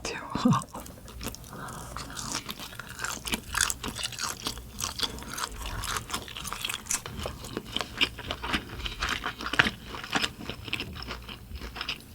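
Gwamegi, dried saury from Guryongpo, is bitten and chewed whole up close, giving a steady run of wet, crunchy chomps with a faint voice now and then.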